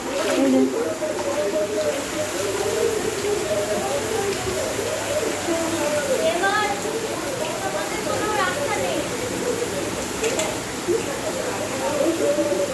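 Rainwater rushing into a house at night during heavy rain, a steady broadband wash of water noise with tones over it, under frequent worried talk throughout.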